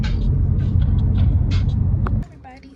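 Steady low rumble inside a moving car, a continuous road and engine drone that drops away abruptly near the end, with faint voices at times.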